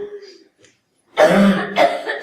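A woman coughs harshly in a burst after a quiet moment, wet and close, with a short pause before another coughing fit.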